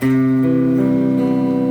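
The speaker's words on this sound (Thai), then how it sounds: "นี่เสียงตู้คลีนแล้วก็ปิกอัพฮัมบักกิ้งนะฮะ" A clean electric guitar with a humbucker pickup through a clean amp holds a sustained chord with warm, full tone, the notes shifting slightly partway through and ringing steadily to the end.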